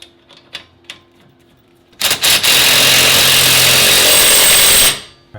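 An impact wrench drives the axle nut onto a Subaru STI during a drivetrain swap, a few short taps giving way to a loud, sustained hammering burst of about three seconds, close to the microphone.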